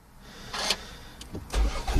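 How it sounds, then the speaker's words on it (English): A Mini Cooper engine starts inside the cabin, a short crank and catch rising into a steady near idle over about two seconds, with a brief click just before. "turn the engine on, Mini's on."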